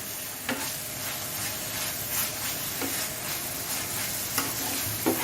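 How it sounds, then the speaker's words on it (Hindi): Mutton liver fries on a hot tawa with a steady, close sizzle, broken by a few sharp scrapes of a spatula stirring it across the pan. "तकरीबन 1 मिनट तक मैं मज़ीद इसकी भुनाई करूँगी और फिर मैं इसको उतार लूँगी।"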